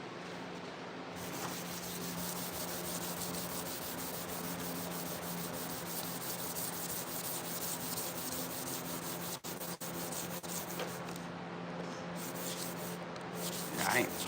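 Steady rubbing and wiping as wax and grease remover is worked over the body of a 1987 C30 truck fitted with a 2-inch cowl hood; a continuous close scrubbing texture with a couple of brief breaks and faint talk underneath.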